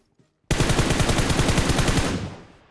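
An enemy's automatic gunfire in a video game rips out as one loud, continuous rapid burst of about one and a half seconds, then trails off into a fading echo.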